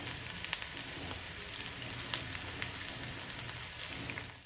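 Chopped shallots sizzle steadily in hot oil with mustard seeds for a Kerala-style tempering, a dense continuous crackle with scattered small pops throughout and no voices.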